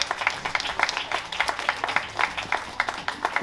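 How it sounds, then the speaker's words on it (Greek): An audience claps steadily at a book presentation in Nea Smyrni, producing a dense, continuous patter of hand claps. The applause is moderately loud and stands alone, without speech. "Και ένα χειροκρότημα για τη Rescue Team Delta"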